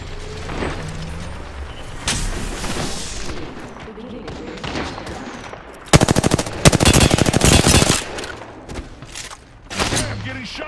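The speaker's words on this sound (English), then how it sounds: "getting shot" Gunfire in Apex Legends crackles in scattered shots, then a dense rapid burst of automatic fire dominates midway, followed by more sporadic shots and impacts, loud and close with character voice lines mixed in.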